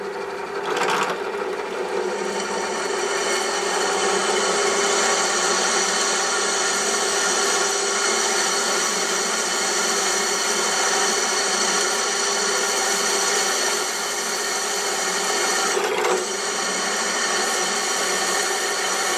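A bench drill press, a Parkside PTBM 500, drives an 8.5 mm bit into 10 mm steel plate, giving a loud, steady motor whine and grinding hum that holds throughout with no speech.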